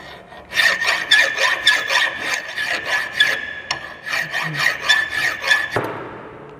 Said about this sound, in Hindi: स्ट्रेट फाइलिंग करेंगे इस तरह से। ये मेरा स्ट्रेट फाइल।